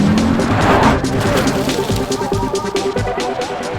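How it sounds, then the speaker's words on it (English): Audi RS Q3's turbocharged 2.5-litre five-cylinder engine revving hard, loud and close, with a rising burst near the start settling into a steady, rough engine roar. "So, let's fire up the engine and see if it really deserves that badge."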